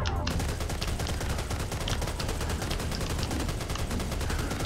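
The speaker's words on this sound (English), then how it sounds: "I actually like this Tommy gun, especially the firing sound." Tommy gun in the video game Serious Sam Fusion firing a sustained fast automatic burst of loud, evenly spaced shots that fills the whole span.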